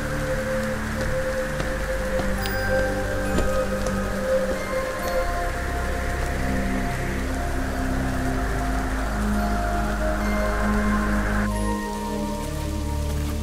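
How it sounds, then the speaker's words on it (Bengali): Heavy rain falls at night over a haunted village in an animated horror story. It is a steady, dense patter of drops on surfaces, with sustained background music tones running underneath throughout. "একটু পর বৃষ্টির বেগ একটু কমতে"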